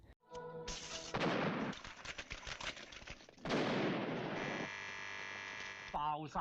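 Loud bursts of crackling pops and sharp bangs, clustered in rapid rattling runs with a steady electric hum in between.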